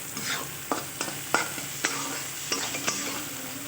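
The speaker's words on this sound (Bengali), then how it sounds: "এই যে পেঁয়াজ রসুনটা একটু ভাজা ভাজা হয়ে এসছে।" Onion and garlic frying in a pan for a snakehead fish vorta, a soft steady sizzle with a few sharp stirring clicks and scrapes of a utensil against the pan.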